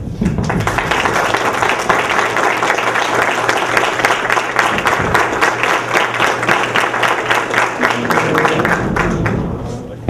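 Standing audience applause at an academy ceremony installing a new member, sustained dense clapping from a large crowd for about ten seconds, loud and steady before tapering at the close.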